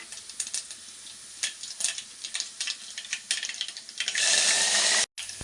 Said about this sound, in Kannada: ಎಣ್ಣೆ ಕಾಯಕ್ಕಿಟ್ಟಿದೆ, ಕಾದಿದೆ. ಈಗ ಸಾಸಿವೆ ಹಾಕ್ಕೊಂಡಿದ್ದೀನಿ.